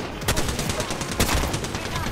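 Rapid automatic gunfire in Apex Legends rattles in quick, close bursts, with voices talking over the shots.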